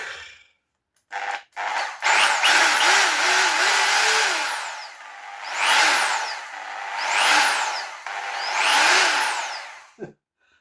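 A Sparky 1010wt electric drill under repair runs in several bursts, its whine rising and falling in pitch as the speed ramps up and down, loud and close, with a brief final stop.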